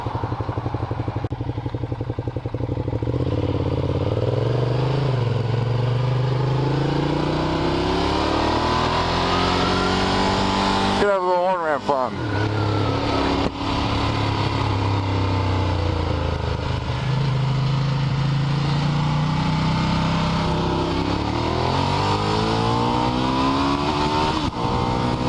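Loud, continuous engine roar of a 162-horsepower Ducati Diavel motorcycle while riding, rising and falling in pitch through gear changes with a brief shift dip midway, close and constant throughout.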